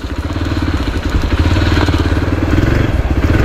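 A motorcycle engine revs loud and close with a throbbing, uneven exhaust note while riding a landslide-hit mountain road near Manali, with rattles and clatter of loose stones mixed in.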